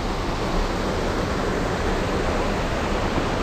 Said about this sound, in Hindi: अरे भाई साहब झरना है देखो, जबरदस्त